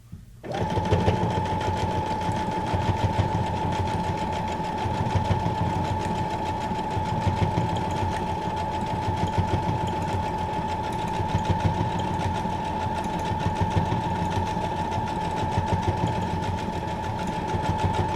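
A sewing machine stitches a small embroidery design with a narrow stitch width, running as a steady, loud, continuous mechanical whir with a constant hum for the whole stretch, no voices over it.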